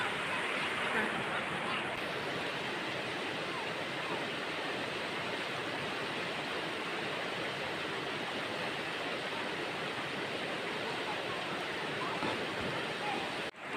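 Strong stream water flowing fast, a steady, dense rushing roar that holds unbroken and fairly loud for the whole stretch.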